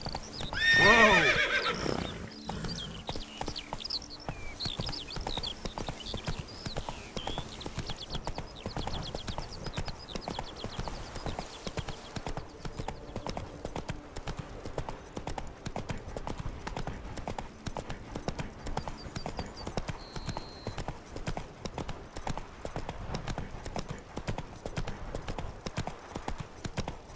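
Roach, a horse in The Witcher 3 video game, neighs loudly at the start, then gallops with steady, rapid hoof clip-clops that carry on without a break throughout.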